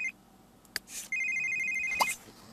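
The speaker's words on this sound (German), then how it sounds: "Telefon! Telefon! Wer ist denn wieder?" A telephone rings in The Sims 3, sounding as two bursts of a bright electronic trill separated by a short gap, each followed by a brief chime, heard clearly and alone.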